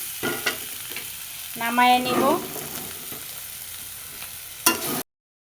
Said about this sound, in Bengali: বেগুন আর মিষ্টি আলু খুব সুন্দর মতো ভাজা হয়ে গেছে।